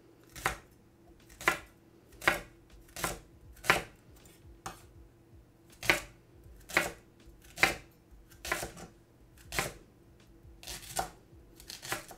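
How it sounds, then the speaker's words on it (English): A knife chops through vegetables on a board with about fifteen crisp, separate cuts at an uneven pace, close by and fairly quiet. "So you can even hear the way the knife cut differently through that."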